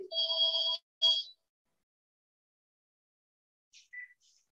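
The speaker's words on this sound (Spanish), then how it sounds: "Voy a apagar el teléfono." A telephone rings indoors, one electronic trill followed by a shorter second burst, then a few faint beeps as it is switched off, with no voices.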